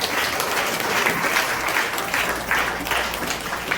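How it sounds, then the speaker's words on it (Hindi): Loud, steady applause from a church congregation at a Christian worship service, dense clapping filling the space continuously without a break. "जोरदार ताली बजाए परमेश्वर को"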